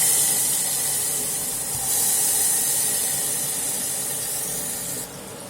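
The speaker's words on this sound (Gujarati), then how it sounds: "હવે આપણે એની અંદર બધા વેજીટેબલ નાખી દઈશું" Chopped potato, cabbage, chilli and bottle gourd hit hot butter tempering in a pan, releasing a loud, steady sizzling hiss that stays constant and then eases slightly at the end.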